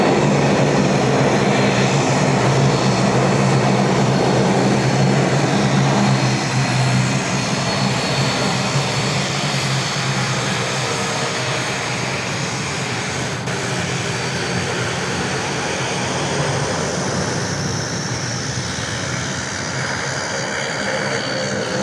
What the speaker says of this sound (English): There we go, northbound dash 8